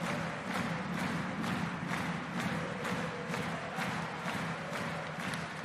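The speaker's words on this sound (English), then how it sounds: "Listen to that crowd in Bremerhaven." An ice hockey crowd in the Bremerhaven arena at a Pinguins Bremerhaven vs TPS Turku match chants and cheers in a steady rhythm, regular loud beats pulsing about twice a second over a constant roar.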